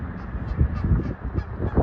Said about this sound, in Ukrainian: Там вон гусаки гуляють